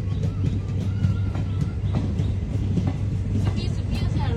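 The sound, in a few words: passenger train running toward Dibrugarh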